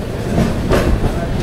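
The AP Sampark Kranti Express pulls out of Gadwal station with a loud, steady rumble and rolling wheel noise heard from inside the coach, continuous throughout.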